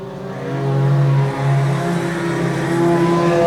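New Star Junior Sedans race on a circuit, their engines a loud, steady droning roar with a slight rise in pitch as the cars hold speed, with no voices.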